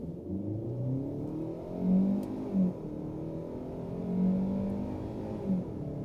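A 2024 Hyundai Sonata accelerating hard from a standstill to 60 in sport mode, its engine note rising in steady sweeps through the gears, moderately loud and continuous with no talking.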